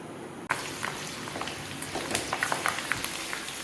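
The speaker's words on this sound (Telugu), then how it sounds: "ఆయిల్లోకి 15 వెల్లుల్లి రెబ్బలు, కొద్దిగా అల్లం ముక్క కూడా వేసుకొని వేయించుకోవాలి." Garlic cloves and a piece of ginger frying in hot oil, a steady close sizzle with scattered crackling pops that starts abruptly and continues without talk.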